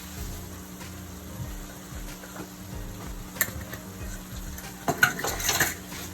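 Browned meat being stirred with flour in a pan for shepherd's pie, with scraping and clinking of a utensil against the metal and light sizzling, close by with a few louder knocks.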